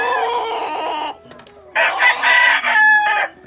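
Young chicks and adult chickens from a small backyard poultry farm clucking and peeping, two close, loud bursts of busy clucking separated by a brief lull, with no talk.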